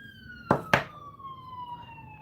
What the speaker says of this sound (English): Sorry, ambulances flying around here.